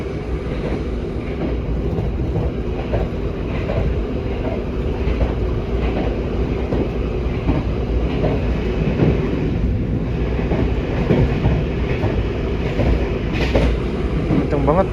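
KA Pandalungan passenger train on the Jakarta–Jember run travelling at around 120 km/h, heard from inside the carriage as a steady, loud rumble with rail clatter and wheel noise throughout, with faint background voices.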